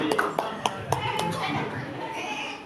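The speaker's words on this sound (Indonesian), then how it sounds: "Oke, tepuk tangan untuk kita semua." A group in a teachers' workshop classroom claps together in scattered, uneven bursts with a few sharp louder claps, mixed with voices chattering throughout.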